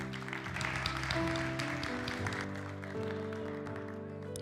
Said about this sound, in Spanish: Dele un fuerte aplauso a Dios por ella